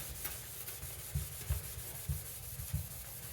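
A car headlight is scrubbed back and forth with a Meguiar's headlight restoration kit, giving soft, steady rubbing strokes about every half second, quiet and close.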